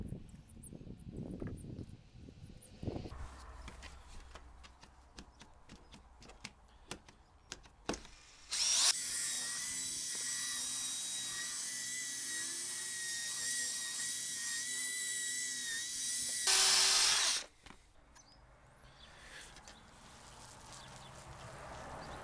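A power drill spins a foam polishing pad with headlight restoration polish on a cloudy car headlight, giving a steady loud whine for about eight seconds, then cutting out; quieter handling noises come before and after.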